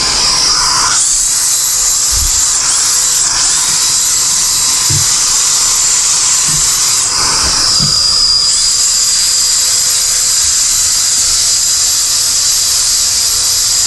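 A steady high-pitched electric drill whine from a drill brush scrubbing a 2020 Honda Fit runs throughout, loud and close, with brief dips and restarts and faint low bumps underneath.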